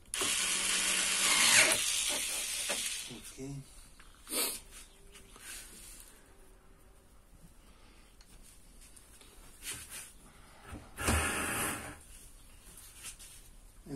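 Screws are driven out of a Bauknecht appliance with a power screwdriver: a loud whirring burst at the start, then shorter buzzing spurts later, separated by quiet handling noises.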